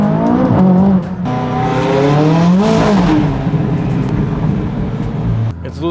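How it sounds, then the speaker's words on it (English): A tuned McLaren 570S with about 150 extra horsepower, in track and power mode, revs hard as its tires lose traction and squeal, the loud engine note rising and falling over nearly six seconds. "It's losing traction"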